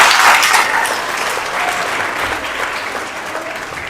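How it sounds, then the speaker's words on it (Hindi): An audience applauds at a ceremony where the Sindh governor honours position-holding students: dense, loud clapping that starts strongest and slowly tapers. "दिल भर के बजाए ताली, बस इतना बजाए।"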